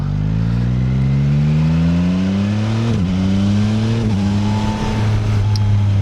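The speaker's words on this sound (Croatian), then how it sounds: "Mislim kako ovaj motor ubrzava" A motor engine hums steadily and rises gently in pitch as it accelerates, with a couple of brief dips before climbing again; close and loud throughout.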